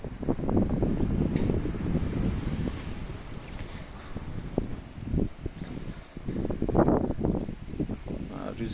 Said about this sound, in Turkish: Rüzgar da başladı.